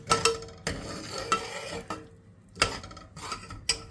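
Masala frying in a pan before mutton goes in for arvi gosht, with a steady sizzle under repeated close spoon scrapes and clinks against the pan, no talking.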